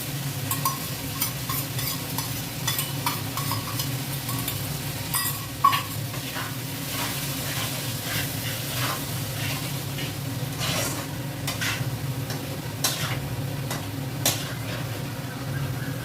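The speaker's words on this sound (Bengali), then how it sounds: "এবার এই মশলাটা কষতে থাকবে যতক্ষণ না মশলা থেকে তেল ছাড়ছে।" Spice paste sizzles steadily in hot oil in a pan while a spoon stirs it, giving repeated scraping clicks against the metal over the constant frying hiss.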